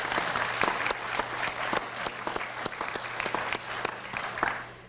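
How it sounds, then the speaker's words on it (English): Audience applauding at a workplace employee update meeting, a steady mass of claps at moderate level lasting several seconds before fading out at the end. "So let's clap for that."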